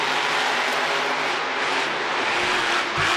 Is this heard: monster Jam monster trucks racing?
yes